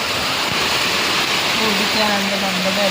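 Steady, dense hiss of heavy rain that has fallen for several days over farm country, continuous and close, with a faint voice briefly audible beneath it.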